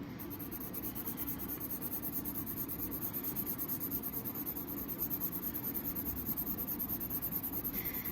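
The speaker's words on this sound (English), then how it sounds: "So I'm working over the light green now with my dark green." Steady, soft scratching of a coloured pencil, dark green watercolour pencil shading back and forth over light green on paper, rhythmic strokes continuing closely with no voices.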